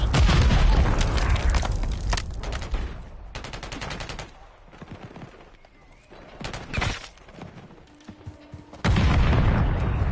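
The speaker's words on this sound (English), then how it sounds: "Grenade out." A grenade blast in Call of Duty: Modern Warfare III multiplayer lands amid heavy gunfire, with loud booms and rapid automatic bursts rolling through the battle, close and dense from start to finish.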